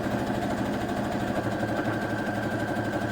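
A sewing machine stitching thread into fabric while making a simple skirt, giving a steady rapid mechanical whirring and ticking hum that runs continuously at an even, moderately loud level.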